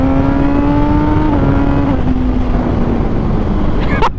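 An old LXR dirt bike engine revving at full throttle, a loud buzzing whine holding high then dropping in pitch, ending with a sharp burst, close to the microphone.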